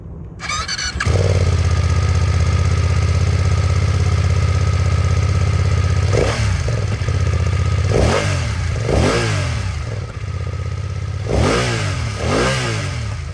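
BMW F 900 R motorcycle with an 895cc inline-two engine starts up, idles loudly close by, then gets several sharp throttle blips that rise and fall in pitch.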